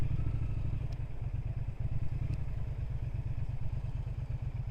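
A 2025 Triumph Speed Twin 1200 motorcycle engine thrums with a steady low pulsing beat while being ridden, the rhythm even and close with a brief dip partway through.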